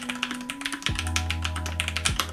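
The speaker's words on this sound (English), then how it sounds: "I would not have any problem typing on this keys." Typing on a NuPhy Air96 low-profile keyboard with brown switches, a steady run of close, soft tactile clicks and taps with a low electrical hum underneath.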